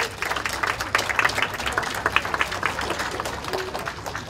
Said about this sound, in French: Applaudissons pour le couple.